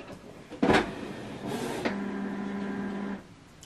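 A Canon PIXMA TS3150 all-in-one wireless printer starts up: a sharp click, then a steady mechanical whir with a low hum for over a second that stops abruptly, heard alone and close.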